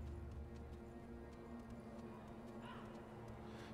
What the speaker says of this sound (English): I hear footsteps there